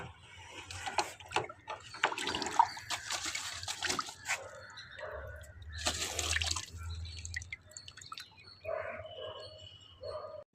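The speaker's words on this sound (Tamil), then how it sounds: "தண்ணியை நம்ம கீழே இறக்குறோம்." Water drains from an alligator gar tank, with intermittent splashing, dripping and trickling over a low hum, plus scattered knocks and bumps nearby; no one speaks.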